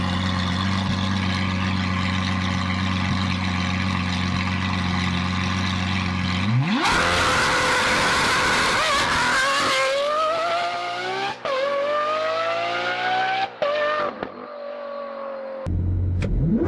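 A Lamborghini Aventador SVJ idles loudly up close, then revs hard and pulls away, its engine climbing through several sharp gear changes with brief lifts of the throttle between them.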